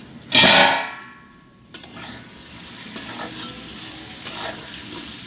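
Vegetables for a vegetarian curry sizzle in a pan, opening with a loud burst of frying that settles into a softer sizzle, with occasional scraping stirs and light clangs against the pan.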